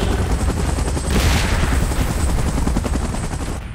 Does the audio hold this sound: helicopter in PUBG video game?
yes